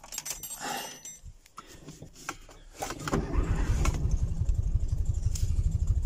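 Old Polish small car, a Maluch or Polonez, cranks with a clattering starter and then catches into a loud, rough, steady idle close by, following a few faint knocks and rustles.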